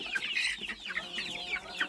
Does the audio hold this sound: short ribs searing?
no